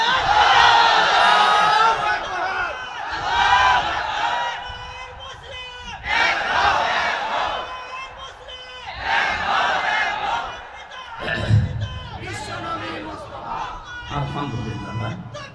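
A large crowd at an Islamic sermon gathering shouts the takbir chant back in loud repeated waves, massed voices rising and falling over several seconds and filling the space.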